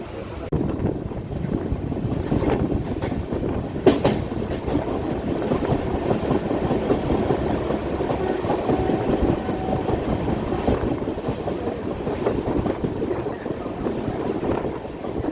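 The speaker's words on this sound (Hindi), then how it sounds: "तो हमारी ट्रेन निकल चुकी है बेला से।" Passenger train running steadily on the line after leaving Bela station, a continuous rumbling roll with wind buffeting throughout and one brief knock, no voices.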